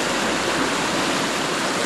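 Creek water rushing through a road culvert barrel at Enoggera Creek after days of heavy rain, a loud, dense, steady roar of flowing water with no pauses, close by.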